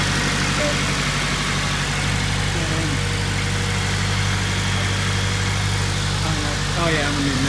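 Turbocharged Honda Integra Type R engine idling steadily at its first start-up, a continuous low, even rumble running throughout with faint higher tones drifting over it.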